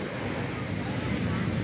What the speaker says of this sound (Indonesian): Sampai pagi ini gelombang pasang di kawasan pantai Citepus masih terjadi